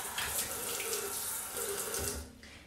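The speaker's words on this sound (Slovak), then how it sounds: "navlhčím si ho vodou a zmývam si ho pod tečúcou vodou" Tap water runs steadily into a bathroom sink while the face is rinsed, a continuous close splashing flow that fades out near the end.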